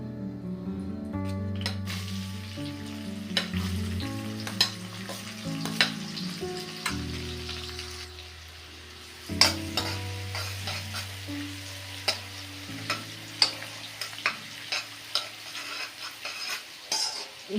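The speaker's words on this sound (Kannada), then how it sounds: "ಈಗ ಈರುಳ್ಳಿ ಫ್ರೈ ಆಗಲಿ." Chopped onions sizzle in hot oil in a pan as a gravy with soya chunks and bay leaf is started, with steady frying hiss and repeated sharp scrapes and clinks of a spoon stirring against the pan throughout.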